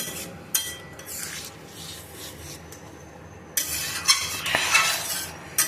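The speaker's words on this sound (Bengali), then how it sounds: "দিয়ে দিয়েছি ঘুগনিটা, মশলাটার সাথে একটু ভালো করে মিশিয়ে নিই" Ghugni being stirred and mixed with spices in a pan at home, a soft rubbing, scraping spoon sound with a few brighter clatters of utensil against the pan, close up and alone.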